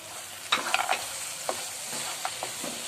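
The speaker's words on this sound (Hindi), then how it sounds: "अब मैं खोया इसमें फ्राई करने लगी हूँ" Khoya fries in desi ghee for carrot halwa, a soft background sizzle broken by several scraping stirs of a spoon in the pan, close and moderately loud.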